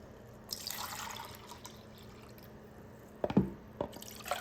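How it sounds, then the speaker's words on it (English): Milk punch being frothed by hand, giving faint liquid splashing and bubbling with a few sharper drips and sloshes near the end, quiet and close. "It's starting to make some bubbles."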